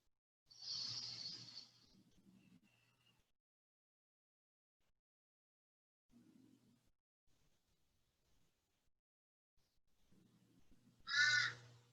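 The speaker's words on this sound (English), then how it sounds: "And the crows in the background concur." Crows cawing outdoors at a distance during a quiet yoga session, with a few harsh calls near the start and another sharp caw at the end, separated by near silence and faint low murmurs.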